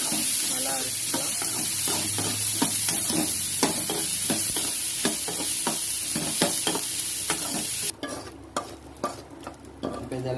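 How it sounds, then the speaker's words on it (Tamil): Tomato, shallots and finely chopped coconut sauté in a pan for a spicy chutney, with a steady sizzle under repeated scraping stirs of a spoon. The sizzle drops away near the end while the stirring taps continue, close and with no talking. "தேங்காய் இது மாதிரி பொடிசாக கட் பண்ணிவிட்டு அதோட சேர்த்து வதக்கணும்."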